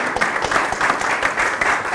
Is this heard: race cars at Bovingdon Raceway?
no